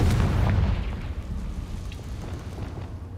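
Confringo blasting spell in the Hogwarts Legacy video game, a deep rumbling explosion booming loudly at the start and then fading into a long, dense low rumble with scattered crackles.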